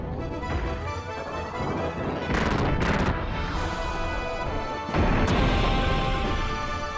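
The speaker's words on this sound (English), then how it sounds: "Hit him with the missile pod." Missile pod attack in Xenogears, a dense, loud barrage of crashing explosions layered over game music, with sharper bursts near the start and another heavy impact late in the sequence.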